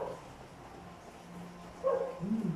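A dog barks a few times near the end, faint and somewhat distant against a low background hum.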